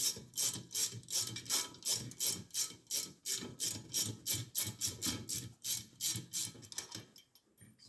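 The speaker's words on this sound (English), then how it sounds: "It's best to get one of these ratcheting wrenches." A ratcheting wrench clicks rapidly in a quick back-and-forth rhythm, loosening a long 14 mm bolt on a Yamaha secondary clutch; the sharp, close, fairly quiet clicks come in even bursts with no talk.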